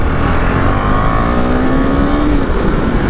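A KTM Duke 390 BS6 motorcycle ridden hard on the road, its engine revving loud and close with a pitch that climbs then drops, wind rushing steadily around it.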